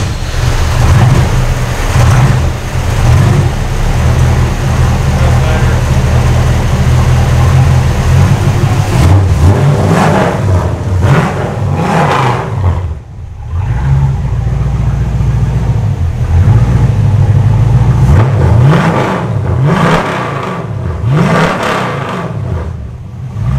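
A Studebaker Sky Hawk Custom engine running loud and close, holding a rough idle before repeated sharp revs that rise and fall several times, with brief dips between bursts.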